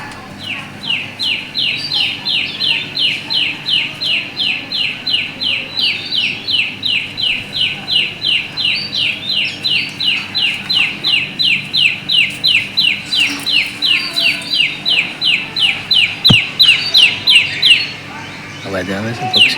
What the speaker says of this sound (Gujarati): પક્ષીનો અવાજ આવે છે તમને?